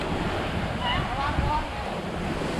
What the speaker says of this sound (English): Waves are crazy.